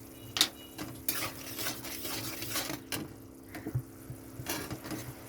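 Spiced cabbage for chilli cabbage is stirred and sautéed in a pan, with intermittent scrapes and clinks of a utensil against metal over a soft, low sizzle, fairly quiet and close.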